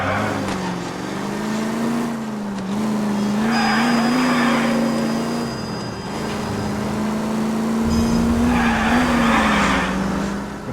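Car tires squealing and skidding through handbrake turns in L.A. Noire, a sustained engine drone with long screeching slides rising twice over about ten seconds, loud and close, no talk.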